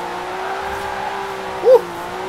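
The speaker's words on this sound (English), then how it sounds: "You hear those turbos just fluttering." A steady engine drone from a 2019 Porsche Carrera S in Forza Horizon 4 holds a constant pitch with a brief higher turbo flutter near the end, cruising.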